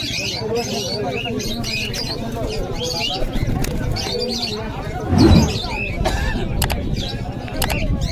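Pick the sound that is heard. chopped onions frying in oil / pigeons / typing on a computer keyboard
pigeons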